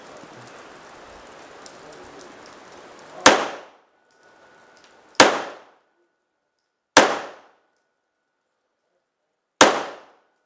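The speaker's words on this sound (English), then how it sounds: "See how much longer it took you to shoot that?" Four sharp gunshots at a shooting range, each a loud, close crack with a short decaying tail, spaced about two seconds apart after a stretch of low rustling background noise.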